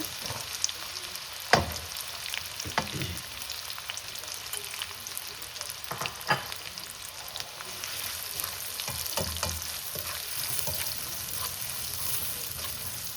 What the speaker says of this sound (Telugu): దాని మీద కొద్ది జీలకర్ర, అది కొద్దిగా వేగుతున్నప్పుడు ఆనియన్స్